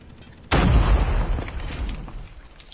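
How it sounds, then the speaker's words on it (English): A single sharp, booming flashbang grenade detonation in the video game Call of Duty breaks a quiet moment, then rumbles and fades over about two seconds. "Flashbang grenade."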